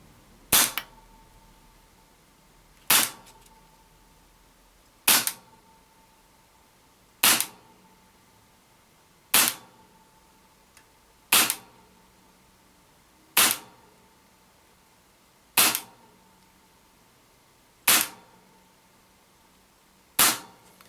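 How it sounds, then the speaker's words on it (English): Ten evenly spaced sharp pistol cracks from a Tokyo Marui M&P9L PC Ported gas blowback airsoft pistol firing over a chronograph, each a crisp close snap with a short decaying ring, about two seconds apart, with no talking. "We'll get to chronoing this thing, let's see what it's doing."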